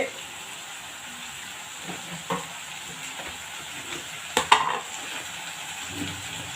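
Kara chutney being stirred as it fries in a pan, a soft continuous sizzle with light scraping and occasional clinks of the spoon against the pan, fairly close and quiet.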